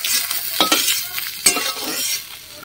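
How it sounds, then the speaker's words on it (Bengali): Small fish fry in a pan of oil: a steady loud sizzle with sharp scrapes and clinks of a spatula stirring against the pan, and no voices. "তোমার মাছগুলো ভাজা হয়ে গেছে"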